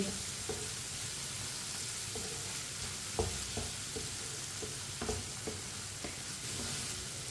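Tomatoes and chopped red chilli cook in a pan for tinda sabzi, giving a steady low sizzle with occasional soft stirring knocks throughout, no one speaking.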